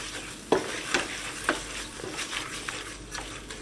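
A spoon stirs salt into a soya biryani mixture in a pan, giving several distinct scraping strokes roughly every half second over a soft sizzle, close and fairly loud, with no talking.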